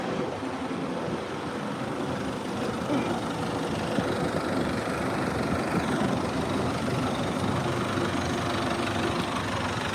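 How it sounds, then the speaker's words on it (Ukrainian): A seed drill on a sowing job runs steadily, its drive chains and shafts turning with a continuous mechanical rumble and rattle at an even level, with an engine droning underneath throughout. "Все, все працює, дивіться, крутяться всі цепочки, вали."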